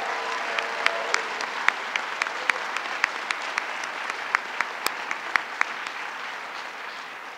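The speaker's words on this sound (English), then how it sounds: "if we could just give a long, strong round of applause to all of the advocates and victim advocates in the room with us today" A room full of people at a gun-legislation signing ceremony gives a long, sustained round of applause for advocates and victim advocates, dense clapping with sharper individual claps standing out, steady throughout.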